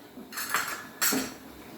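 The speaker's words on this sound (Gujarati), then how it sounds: "હવે આપણે પાણીમાં બધા મસાલા ભળી જાય એટલે એને આપણે સર્ટ કરી લઈશું" A spoon stirs spices into water in a pan for a corn paneer cheese gravy, giving two short bursts of close metal scraping and clinking against the pan.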